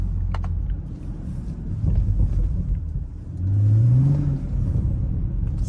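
A BMW 335i F30 engine revving while driving at night, a deep rumbling drone that swells into a rising rev with a climbing whine around the middle, heard from inside the cabin with steady road noise and no talk.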